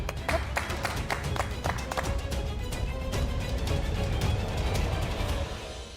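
An audience claps during a Hindi TV drama scene, with quick sharp hand claps pattering in a fairly quiet run over low background noise.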